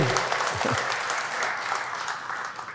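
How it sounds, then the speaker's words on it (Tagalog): Congregation applause at a Sunday worship service after a solo song, a broad steady wash of clapping that fades gently toward the end, with a faint voice briefly audible early on. "Isa pa nga pong palakpak para sa Panginoon."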